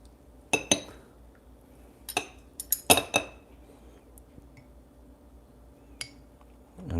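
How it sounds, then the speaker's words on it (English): A metal spoon scrapes and clinks against a ceramic cupping bowl while coffee grounds are scooped off the top of a coffee cupping, with a few sharp separate taps spread across quiet moments. "I'm just going to scoop out the beans"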